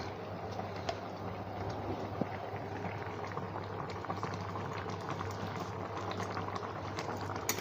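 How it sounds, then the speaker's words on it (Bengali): Cucumber curry bubbling at a boil in a pot, a soft, even simmer of popping bubbles that stays fairly quiet and steady, with no voices. "দেখো ফুটে উঠেছে"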